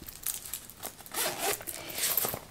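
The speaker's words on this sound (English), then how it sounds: "And then, of course, it zips." A zipper runs along a makeup bag in a few scratchy, close pulls, rasping bursts with brief pauses between strokes.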